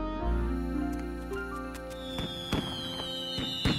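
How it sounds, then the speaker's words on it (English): Fireworks bursting at the Eiffel Tower in Paris in an animated scene, a few sharp cracks and pops over a low rumble, with a rising whistle and sparkling crackle following. "Fireworks!"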